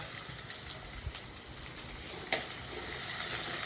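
Ginger, garlic and small shallots fry steadily in hot oil in a pan, a close, continuous crackling sizzle with a couple of soft stirring knocks and no talking.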